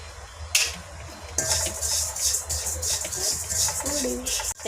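Cumin seeds dry roast in a pan, giving a bright crackling hiss broken by scraping and clinks of a spoon against the metal, close and fairly loud.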